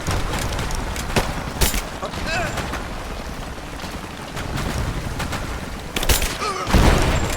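Gunfire in the video game Rise of the Tomb Raider: dense, loud volleys and booming shots roll on continuously, with heavier bursts near the end and shouted voices mixed in.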